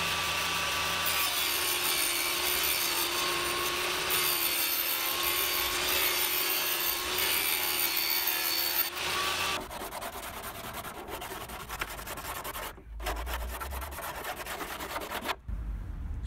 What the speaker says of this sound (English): then we'll trim this edge of the flange off as well